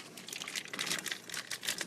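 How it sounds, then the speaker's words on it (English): Plastic packaging being cut off thawed frozen tilapia fillets in a home kitchen, a close run of crisp crinkling and snipping crackles with no talk. "And I'm actually just going to cut the plastic pieces off."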